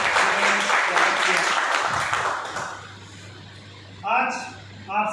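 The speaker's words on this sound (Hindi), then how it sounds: "एक बार चाहूँगा खुशबू जी के लिए भी जोरदार तालियां बजाएं।" Audience applause fills a hall at a sales training session: a dense, steady wash of many hands clapping that thins out after about three seconds, then a voice starts speaking over faint room noise.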